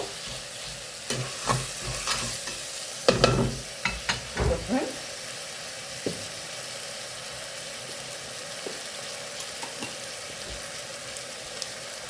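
Tomatoes fry with a soft sizzle in a pan, punctuated by a cluster of scraping stirs early on, then quieter occasional taps.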